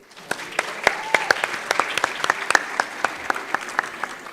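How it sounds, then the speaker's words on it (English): Audience at a closing declaration session clapping for Libya's commitments: a sparse, rhythmic patter of distinct individual hand claps, moderately loud and evenly spaced. "Let's clap for Libya."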